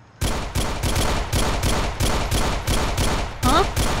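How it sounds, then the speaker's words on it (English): Rapid, loud bursts of automatic gunfire from the video game GTA 4, a dozen or so sharp cracks in quick succession with brief gaps, sounding close and punchy. "Who's shooting?"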